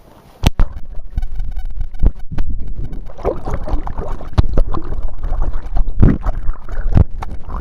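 Canoe running deep river rapids in Dovedale, with a steady loud rush of churning water and wind buffeting the microphone, sharp splashes and knocks throughout, beginning after a brief quiet moment.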